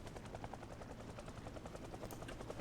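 A helicopter in a zombie video game makes a steady, throbbing rotor chop that fills the scene continuously, with no voices over it.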